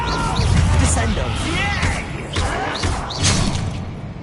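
Descendo spell impacts in Hogwarts Legacy during a duel, several heavy thuds and crashing slams spaced across the moment, mixed with a shouted spell and other voices.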